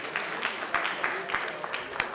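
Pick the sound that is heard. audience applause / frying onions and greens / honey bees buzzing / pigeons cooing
audience applause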